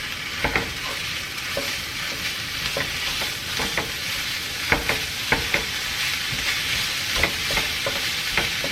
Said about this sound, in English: Now we're going to add our ground beef. You're going to break it apart.